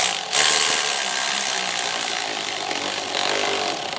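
A ratchet tightens the intercooler pipe clamp on a 2001 Ford Excursion, producing a loud, close, continuous whirring buzz that lasts about four seconds.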